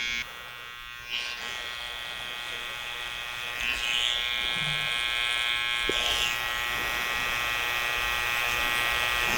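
Mini hair clippers buzz steadily close up while tapering hair around the ear during a men's haircut, a continuous electric drone that shifts slightly in pitch as the blades move through hair.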